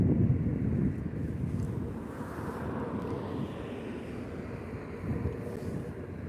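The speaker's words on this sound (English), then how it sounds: "That helicopter is probably only a few hundred feet above us." A steady low rumble of a helicopter passing a few hundred feet overhead on Sunset Boulevard, Hollywood, during a smoky wildfire, mixed with gusty wind buffeting the microphone; no one speaks.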